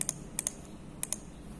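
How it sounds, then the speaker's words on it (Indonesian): Computer keyboard keys pressed in three quick pairs of clicks, close and crisp against a quiet room. "Clear history ini saya pakai Ctrl Alt Del ya."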